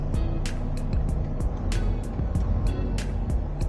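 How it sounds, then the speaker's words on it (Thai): A trail motorcycle engine idling and revving with an electric throttle box set to fast mode, a steady engine drone with repeated sharp ticking clicks over it. "แตะคันเร่งเท่ากันแต่รอบมันจะตีขึ้นเยอะกว่า"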